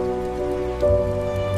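Steady rain falls on a surface in an animated children's story about a grasshopper and ants, a continuous even patter under a faint sustained musical tone.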